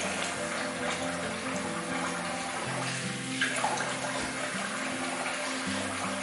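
Water runs steadily from a tap as someone rinses off after a wet shave, a continuous close splashing rush lasting the whole stretch with no talking.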